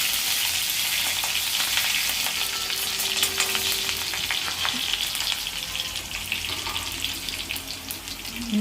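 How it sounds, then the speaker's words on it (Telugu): Red chillies frying in hot oil, a dense continuous crackling sizzle with bursts of spitting, close and fairly loud, easing slightly toward the end. "మిరపకాయ బాగా ఫ్రై అవ్వాలి"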